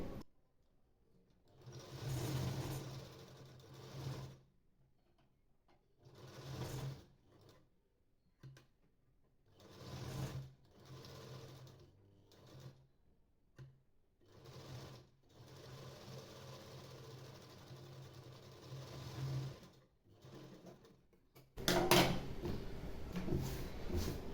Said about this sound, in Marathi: लेस लावून आपण एक टीप टाकून घेऊया